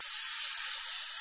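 Lithium grease sprays from an aerosol can onto the axle of a Toro 21-inch dual-stage snow blower with a 5 HP Tecumseh engine, a steady, close hiss that runs unbroken for just over a second.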